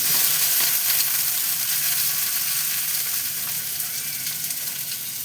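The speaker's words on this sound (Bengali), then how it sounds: "এই যে এবার এতে আমি টমেটো কুচোনো দিয়ে দিলাম, কুচি করে রেখেছিলাম টমেটোগুলো, এটা দিয়ে দিই।" Chopped tomatoes frying in a pan with onion: a loud, dense, steady sizzle heard up close, hissing evenly throughout and easing slightly toward the end, with no one talking.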